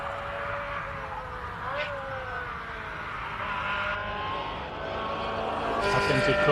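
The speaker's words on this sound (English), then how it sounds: "Let's listen to this glorious V8." A Ferrari F355 V8 engine in a racing video game drones steadily at speed, its pitch shifting through gears with faint tyre noise, while a commentator talks over it.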